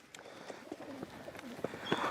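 A racing pigeon gives soft, low cooing calls, a few gentle rolling coos close by over quiet background noise.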